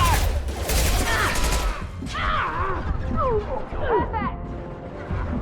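Bursts of heavy gunfire in the Mass Effect 2 video game open the scene, followed by game sound effects and a voice shouting over the noise of combat.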